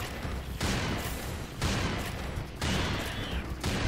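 Serious Sam 2 gunfire comes in heavy sustained bursts about a second long, each ending in a short gap before the next, loud and dense with a booming low end and no talk.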